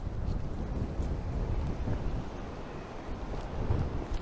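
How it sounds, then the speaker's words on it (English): Wind buffets a microphone outdoors on a homestead, a steady rough rumble that swells and eases throughout, loud and close with no other clear sounds. "actually holding it steady even in this wind"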